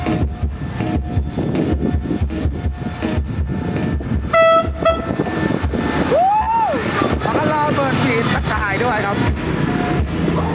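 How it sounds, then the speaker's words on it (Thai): Diesel locomotive 5242 pulls out of a station in Sisaket, Thailand, during a Loy Krathong procession, rumbling and clattering loudly with a sounded horn midway, while people talk throughout. "รถกำลังออกแล้วครับผมดีเซล 5242ครับ"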